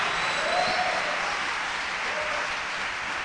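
A church congregation applauds in praise during a Portuguese-language worship service, a dense, steady wash of clapping from many hands that fills the room and holds evenly throughout.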